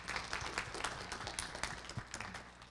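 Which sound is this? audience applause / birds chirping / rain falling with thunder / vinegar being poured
audience applause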